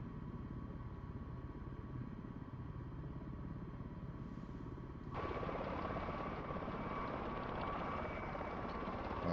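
A tiltrotor aircraft flying in helicopter mode in a video game gives a steady, close rotor-and-engine drone that grows louder and brighter partway through, with no talking.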